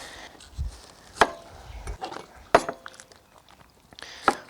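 Spring onions being chopped into batons on a board with a knife: a few sharp, separate chops spaced apart, close and fairly quiet, with no talking.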